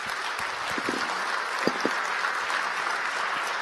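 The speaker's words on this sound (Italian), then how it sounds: "Un applauso, ci sta." An audience applauds at a business awards ceremony, sustained even clapping from a crowd with a few brief louder claps near the middle.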